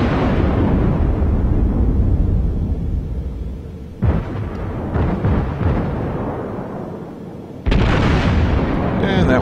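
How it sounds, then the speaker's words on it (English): Naval gun salvos in the World of Warships video game: a steady heavy rumble broken by two sudden loud booming bursts, one midway and a second near the end that stays loud. "if it's within range, you can fire, which I'm going to do"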